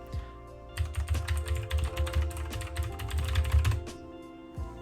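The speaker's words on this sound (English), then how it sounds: "I'll type it in the chat right now." Rapid typing on a computer keyboard, a dense close run of light key clicks and taps lasting a few seconds, alone without talking.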